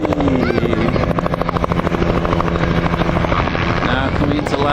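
A helicopter passes low over treetops with a loud, rapid, rhythmic blade chop and a whining engine tone throughout, with a voice talking over it.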